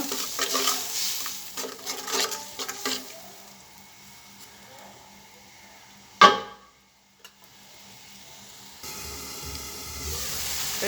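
Spices with ginger, garlic and onion paste fried in a pan: irregular spoon scrapes and clinks over a low sizzle, one sharp knock, a brief near-silence, then a steadier frying hiss returns.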